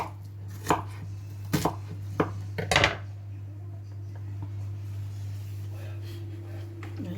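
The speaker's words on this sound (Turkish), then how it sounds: "Böyle soğanı doğrayacağım, kavuracağım." Knife strikes on a cutting board in a handful of sharp, uneven chops through onions, close by, then a quieter stretch with faint scraping over a steady hum.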